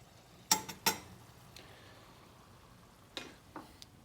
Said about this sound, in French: Je fais mijoter tout ça.